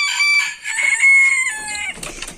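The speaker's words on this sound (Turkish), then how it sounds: "Tavuklar burada." Chickens cluck and a rooster gives a drawn-out crow close by, loud and clear against an otherwise quiet background.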